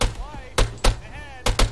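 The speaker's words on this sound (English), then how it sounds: "You're under fire. Right to the gunfire." Gunfire in a military video game: several sharp gunshots in quick bursts, loud and near, over a low hum with faint tonal radio-like sounds between.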